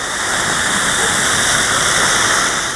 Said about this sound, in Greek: όπως βλέπετε οι δρόμοι έχουν μετατραπεί σε ποτάμια